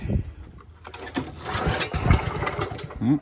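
Gas engine on a pressure washer being pull-started with the choke on, a rough sputtering run of uneven chugs and bursts close to the recorder, with no speech.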